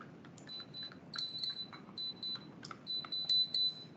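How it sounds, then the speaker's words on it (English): Several short electronic beeps from body cameras, many coming in quick pairs, sound from nearby devices at irregular moments over a quiet background hum. "Everybody else pressed it and got a double beep, right?"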